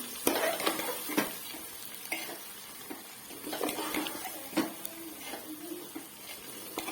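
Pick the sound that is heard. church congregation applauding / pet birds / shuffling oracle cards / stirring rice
stirring rice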